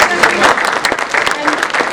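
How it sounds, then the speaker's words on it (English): Applause from a crowd at a Central Regional School District board of education meeting in Bayville, NJ, a dense steady patter of many hands lasting throughout, with voices mixed in. "Round of applause."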